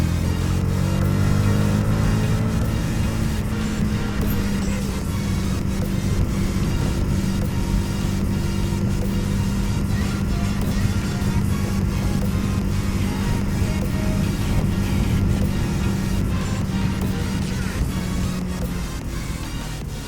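A Yamaha YZF R125 125cc motorcycle rides on at steady speed, its engine drone continuous and close under heavy wind buffeting on the microphone.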